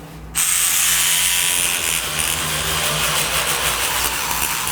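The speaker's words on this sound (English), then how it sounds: "So to scrub these grout lines, you could use a toothbrush, but I'm gonna use this little thing right here." Quick, busy scratching of a small scrubbing tool worked back and forth along tile grout lines in a tub and shower surround, starting abruptly after a brief quiet moment and continuing close and steady without speech.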